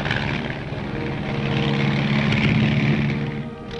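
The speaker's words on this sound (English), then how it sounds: "Among the aircraft used are the L-19, a standard observation plane." An L-19 military observation plane, a propeller-driven fixed-wing aircraft, drones steadily overhead with a loud, continuous engine and airscrew roar that swells slightly and then eases near the end.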